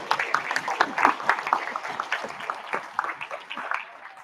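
A sailing-event audience at a junior regatta icebreaker breaks into scattered, uneven clapping, moderately loud and close, with some voices mixed in.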